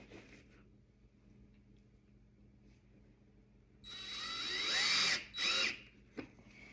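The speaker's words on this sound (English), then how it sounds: "I'll show you how easy it is with a drill." A power drill driving spikes into shoe soles for homemade cleats spins up briefly in two close bursts, loud and whining, after a stretch of quiet room tone.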